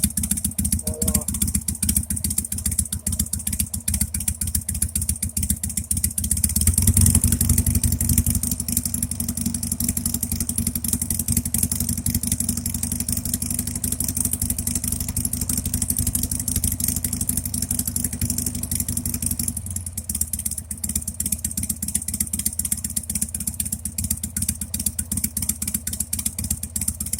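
A Harley Sportster engine idles steadily after a carburetor swap with no choke, a loping low rumble with a mechanical clatter, briefly rising in a blip of throttle before settling back; talk is heard over it.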